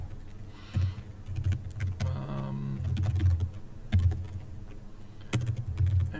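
Someone types code on a computer keyboard in quiet, irregular bursts of soft key clicks, fairly close, over a low background hum, with no talk.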